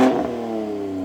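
A 2025 BMW M4 Competition on a straight-pipe exhaust gives a quick, loud rev, a sharp burst that settles into a droning hold and fades slightly within about a second.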